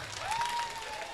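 Brief burst of audience applause at a Dahi Handi festival, a soft crowd clatter at moderate distance with a thin tone sliding through it.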